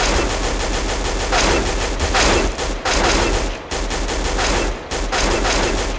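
Rapid bursts of rifle fire from Counter-Strike: Global Offensive, loud and continuous with brief gaps between strings of shots, close and alone without talk.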